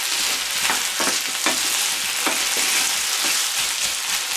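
Potatoes sizzle and crackle steadily in a hot pan over medium heat, a close, continuous frying hiss with occasional stirring scrapes and no talking.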